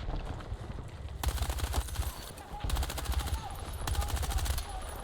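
GRT-BC rifle firing in Battlefield 6, rapid automatic bursts of sharp cracking shots in three or four strings, loud over a rumbling game background with a voice talking between them.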